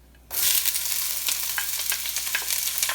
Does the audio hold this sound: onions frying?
yes